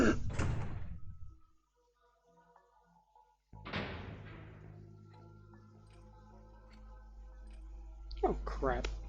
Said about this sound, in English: I hate when they lock the doors.